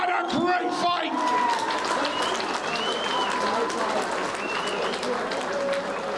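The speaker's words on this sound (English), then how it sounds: "please give these two young athletes a huge round of applause" Fight crowd at a UKFC event applauding and cheering two young athletes: a continuous, moderately distant roar of clapping and shouts that holds steady throughout, with a brief voice and a burst near the start.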